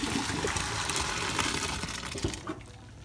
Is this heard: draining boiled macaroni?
yes